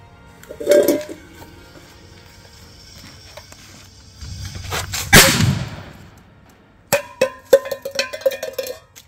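A Magnum X firecracker goes off under a pot with a single sharp blast and clattering ring, followed by scattered knocks and crackles.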